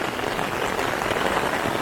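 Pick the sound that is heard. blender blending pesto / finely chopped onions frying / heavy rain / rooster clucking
heavy rain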